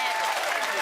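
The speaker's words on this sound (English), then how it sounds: "Give it another round of applause." A studio audience applauds in a brief, dense burst.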